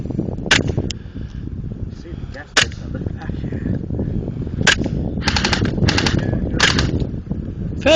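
Airsoft guns firing outdoors, scattered sharp snapping shots in quick bursts at moderate distance, with people talking throughout.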